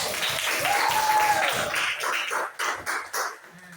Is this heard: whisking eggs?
no